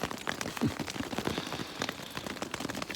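Steady rain patters on surfaces along the Pacific Crest Trail in cold Washington weather, a dense, even hiss with scattered close drops and no voices.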